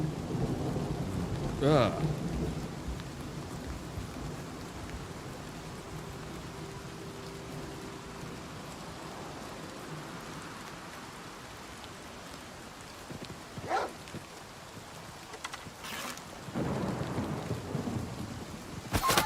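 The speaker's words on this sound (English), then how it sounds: "Rain. There's tons and tons of rain." Heavy rain with rolling thunder in the Oblivion Remastered video game world, a constant hiss of downpour broken by several sharp cracks and rumbles, with a brief groan from a player.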